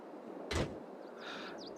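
A brief, solid thump of a Katana 850 cab door closing in Farming Simulator 22 is followed by a faint higher rattle and creak, and no one talks.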